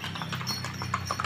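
Horse hooves clip-clop at Telaga Sarangan, Magetan, a quick series of close, crisp hoof strikes on hard ground over low background rumble.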